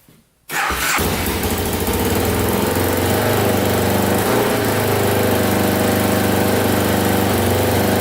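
A Can-Am DS 650 quad engine starts up and idles high with a steady, loud, buzzing drone close by, running evenly throughout without speech.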